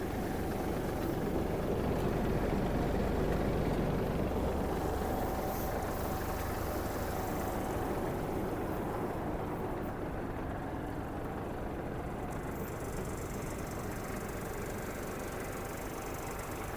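A Kubota GL-32 Japanese mini tractor fitted with a front loader runs steadily at idle, its continuous engine drone and low rumble filling the clip at close range without talk.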